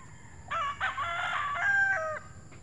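A rooster in a backyard poultry yard gives one clear, drawn-out crow of about two seconds, fairly close, against quiet low background noise.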